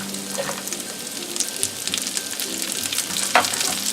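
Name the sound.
carrots and peas frying in a stir fry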